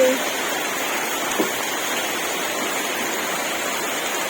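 Rain falls outdoors as a steady, broad rushing hiss, fairly loud and unbroken, with one faint brief knock near the start.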